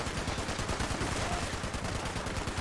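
Rapid, relentless .50 cal machine-gun fire in the video game Fallout 76, dense bursts hammering continuously at close range and loud throughout, with no pauses and no talk.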